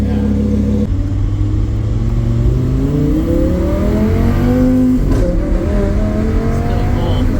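A Lamborghini Huracan with a titanium HMD exhaust accelerates hard under load, its engine note climbing steadily in a loud, close, rising roar with a brief shift midway and faint voices underneath.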